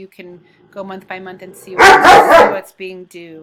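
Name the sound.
dogs barking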